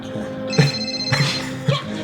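A cell phone ringtone sound effect rings in repeated short bursts, three rings spaced about half a second apart, over a steady background hum.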